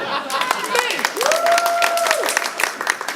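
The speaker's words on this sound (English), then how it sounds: "you can clap too, it's fine, I'll stop, you can clap" A comedy club audience breaks into applause and clapping during a stand-up set, a steady wash of hands under a voice whose pitch glides and holds, as if drawing out a word.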